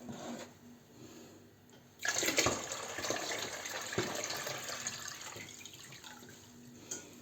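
Water suddenly starts pouring steadily into a pot, three litres, a continuous splashing rush that carries on to the end.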